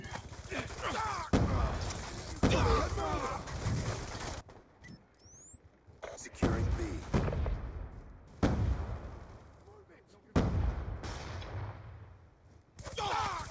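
Sniper rifle shots and gunfire in Black Ops II, several sharp loud cracks spaced apart between bursts of in-game battle noise, with a voice talking over parts of it.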